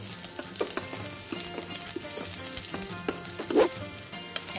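Chopped onions sizzle steadily in hot oil in a casserole pot, a soft continuous crackle with a few sharper pops and a brief stirring scrape.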